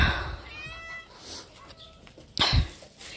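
A cat in a stable gives a clear, drawn-out meow, followed a moment later by a louder, sharper one, with faint rustling and muffled background sounds between them.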